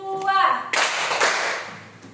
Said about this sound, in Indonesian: Oke, tepuk tangan 1. Tepuk tangan 2.